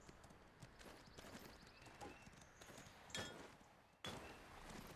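Horse hooves clip-clop in a video game as mounted characters move about a town near the ocean, a quiet, irregular patter of light hoof strikes with a couple of sharper knocks.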